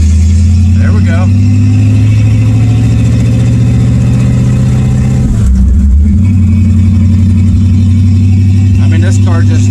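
A 1957 Chevrolet Nomad with an M21 gearbox drives along, its engine a steady deep drone that dips briefly mid-way as gears shift, loud and continuous inside the cabin.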